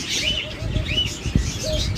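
Doves cooing and chirping among caged birds in a bird shop, several soft repeated calls close by with faint rustling.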